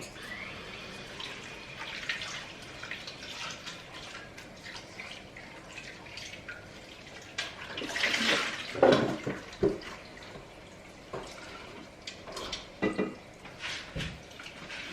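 Sweet potatoes are rinsed under a running kitchen tap. Water trickles and splashes softly and steadily, and a louder burst of gushing and clattering comes about midway, followed by scattered drips and knocks.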